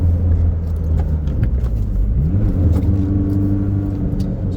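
A Toyota MR2 drives along the Tail of the Dragon road, its engine a steady loud low drone with road rumble and a slight rise in pitch midway, no voices.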